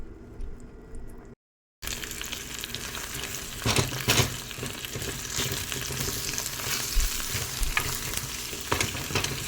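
Egg stirred and fried in a pan for egg fried rice, a steady sizzle broken by scraping stirs, close and fairly loud after a brief gap of silence near the start.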